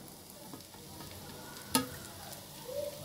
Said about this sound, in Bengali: এখন আমি অ্যাড করে নেব সেই ক্যাপসিকামটা